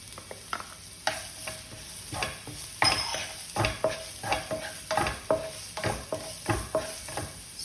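Chopped onions with ginger and garlic sizzle in a hot pan for Mumbai vada pav filling, while a spoon stirs and scrapes in a steady rhythm of repeated strokes, close and clear.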